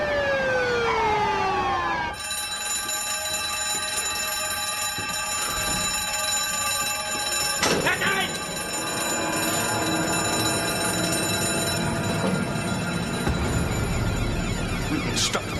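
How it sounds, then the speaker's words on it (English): A bank alarm bell rings continuously and loudly, a steady harsh metallic tone with a siren-like sweep at the start, and a few sharp bangs and clatters breaking through midway. "bloody bank alarm. Where's it coming from?"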